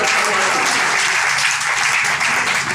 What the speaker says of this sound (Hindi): एक बार आप ताली बजा दीजिए